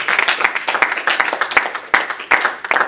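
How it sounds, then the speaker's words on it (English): A church congregation clapping hands in praise, dense overlapping claps in a quick, uneven rhythm, loud and close, with a little voice underneath. "Give the Lord a hand clap of praise."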